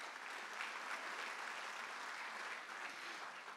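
An audience at a 2019 Teoma presentation applauds continuously, a dense steady patter of many hands clapping at moderate distance.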